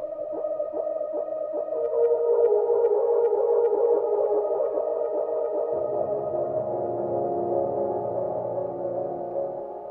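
An MPC sampler plays a sustained tonal phrase through a delay effect, echoing repeats smearing into a steady wash that shifts lower midway and then slowly fades, with no voice.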